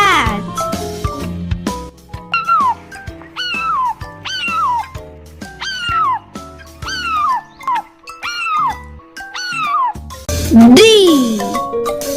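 A single cartoon-style cat meow with a rising and falling pitch near the end, loud and close, follows a string of melodic sung or synthesized notes.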